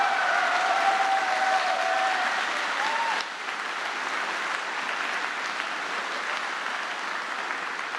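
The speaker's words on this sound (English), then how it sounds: "can we have another big applause for Petey?" A convention audience at an opening ceremony applauds in a sustained wave of clapping, a faint voice briefly heard early before the clapping thins slightly and carries on.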